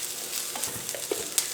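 Onions fry with turmeric in oil in a pan for a kovakka curry, giving a soft steady sizzle with light clicks and scrapes as they are stirred close by.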